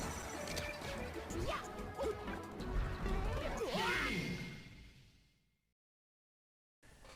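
Fireballs striking in a Super Smash Bros match, a run of loud crashing game impacts with sweeping whooshes, which fade out midway and give way to silence before a brief return at the end.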